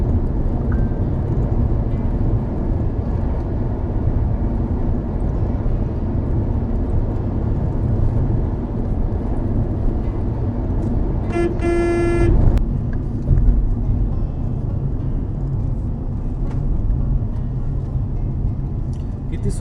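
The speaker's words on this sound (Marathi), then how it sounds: "गाडी अगदी ऐंशी नव्वदच्या स्पीडला इथे सहज चालते" A car drives at high speed along the Phonda Ghat road, giving a steady, continuous road and engine rumble throughout, with a brief horn-like tone partway through.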